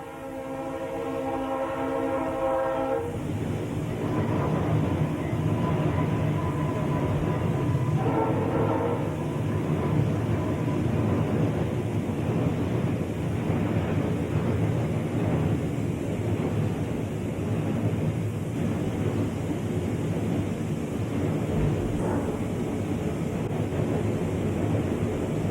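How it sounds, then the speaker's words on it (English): A Conrail Buffalo-to-Elkhart freight train rumbles steadily across a lift bridge with gulls nearby, its horn blaring loudly in a sustained tonal blast at the start before giving way to continuous rolling rail noise and wind. "Horn blaring, the Buffalo to Elkhart freight rouses the gulls as it comes across the bridge"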